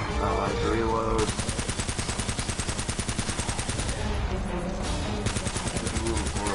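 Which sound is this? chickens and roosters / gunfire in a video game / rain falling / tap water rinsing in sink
gunfire in a video game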